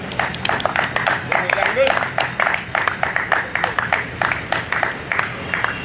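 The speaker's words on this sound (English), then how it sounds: "we have a big round of applause for Bojangles" An audience at a cricket match presentation ceremony claps in a brisk, regular patter of many hands that carries on steadily, fairly close and loud.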